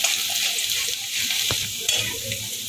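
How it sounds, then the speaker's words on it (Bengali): Chopped ginger and garlic hit hot oil in a wok, a dense steady sizzle with one sharp scrape of stirring partway through, close and loud with no voices. "তেল গরম হয়ে গেছে, এখন আদা রসুন কুচিটা আগে দেবো।"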